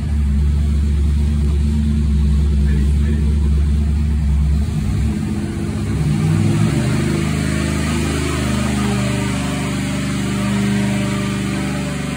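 A Chevy 307 small-block V8 runs on a dyno, a loud, sustained engine roar that shifts pitch partway through a run, climbing then holding steady, close and dominating throughout.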